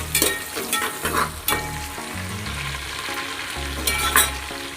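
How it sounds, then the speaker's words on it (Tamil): Green chillies, ginger and garlic sizzle and fry in a pan for a Tamil buttermilk curry, with steady crackling and repeated scraping stirs of a spatula, close and continuous with no voices. "நல்லா வதக்கிங்க."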